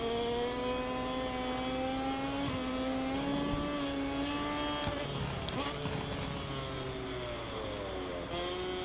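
A GasGas Tech3 KTM MotoGP bike in MotoGP 24 at Lusail, Qatar, its engine whining loud and steady with pitch rising and dipping through a corner, no talk over it.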